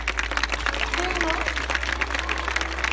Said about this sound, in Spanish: Un aplauso para belgas.